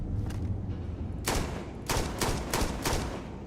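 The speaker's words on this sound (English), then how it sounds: "I can just use it as a shotgun." A 30-round shotgun sniper rifle fired in the video game Starfield: a muffled thump, then four sharp, loud shots spaced roughly half a second apart.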